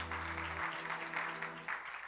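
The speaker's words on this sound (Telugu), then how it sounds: "అందరూ కూడా చప్పట్లు కొట్టి దేని మేము చెల్లించుకుందాం" A church congregation at a Telugu Sunday service claps together, a faint, dense patter of many hands over a sustained organ-like tone that drops away partway through.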